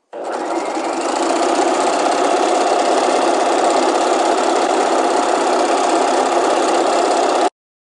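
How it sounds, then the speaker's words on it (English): A sewing machine runs steadily, stay stitching the center back of dress bodice panels at a 1-inch seam allowance; a close, even mechanical whir starts abruptly, holds constant for about seven seconds, then cuts off. "Now I'm going to stay stitch the center back of these panels."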